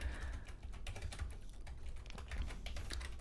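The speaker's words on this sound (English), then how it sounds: "If you want to start typing, just go ahead and start typing." Steady, rapid clicking of keys on a computer keyboard, close and continuous for a few seconds with no voices.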